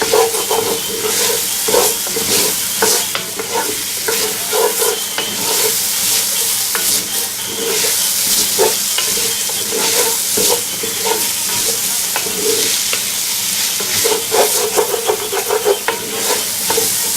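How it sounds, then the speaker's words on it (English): Vegetables and round steak sizzle and brown in a pan over a fairly high burner, a loud steady crackling fry with frequent stirring scrapes, no talk. "Alright, our vegetables are browning down pretty good there."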